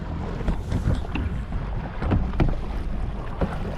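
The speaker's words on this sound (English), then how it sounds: "We're towing one of the skis." A jet ski tows a second jet ski on the Missouri River in late October, its engine droning beneath heavy wind buffeting the microphone, with water splashing and slapping against the hulls.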